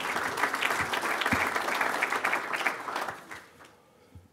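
Audience at a golf association assembly claps for newly named committee members, a dense, steady round of applause that tapers off near the end.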